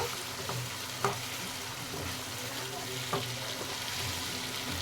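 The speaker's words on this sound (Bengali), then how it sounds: "ভালো করে নেড়ে নেব।" Tomato masala with salt fries in a pan for a lemon leaf chicken dish, giving a soft continuous sizzle with two or three scraping knocks as a spoon stirs it.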